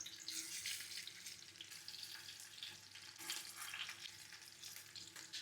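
Meatballs browning in a pan give a soft, steady sizzle and crackle that carries on without a break, faint and close, with no voices.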